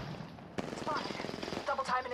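Gunfire in a shooter video game, a quiet burst of rapid shots cracking out at mid-distance with someone talking over it.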